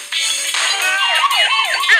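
A video game police car siren wails with rising and falling electronic sweeps, loud and close, alone without talk.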